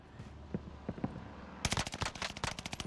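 Gunfire in Warzone Pacific, a few sparse shots followed by a dense, loud burst of rapid automatic fire that rattles on until the end.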